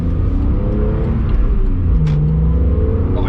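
A 2003 BMW E46 M3 CSL engine rumbles loudly and steadily at close range, its revs rising and falling slightly over a few seconds with no voices.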